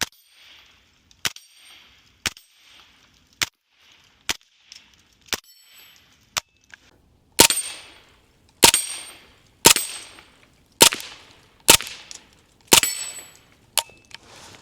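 A suppressed MP5 SD clone fires about a dozen single shots at steel targets on a dueling tree, each a sharp crack, many followed by a bright metallic ring. Later shots come louder and more evenly spaced, with no talking.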